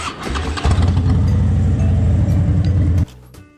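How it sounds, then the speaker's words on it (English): Motorcycle engine catching and starting up, a loud steady low rumble running for a few seconds before cutting off abruptly, recorded up close on a motovlog ride. "So I know that's going to be a start of the bike."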